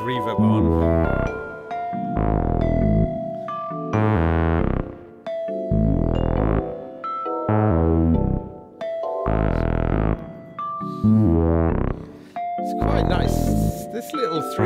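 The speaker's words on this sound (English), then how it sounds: "Now we got the big reverb on." Synthesizer bass line from a compact 3HP Eurorack module, washed in a big reverb; repeating sustained bass notes in phrases of about two seconds, each with a long hall-like tail and bright harmonic overtones on top.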